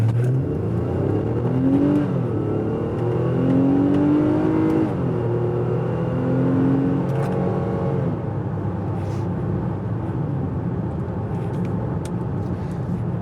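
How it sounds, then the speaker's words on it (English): A 2022 Infiniti QX60 Sensory AWD with a V6 engine accelerating hard in sport mode, heard from inside the cabin: a steady growl rising in pitch through several gear shifts, moderately loud and alone. "let me put it in sport mode and just kind of accelerate, just so you can hear what it sounds like, because the engine sounds pretty cool."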